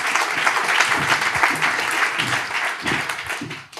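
Audience applause after a lightning talk at a conference, a dense, continuous burst of clapping from many hands that fades out near the end.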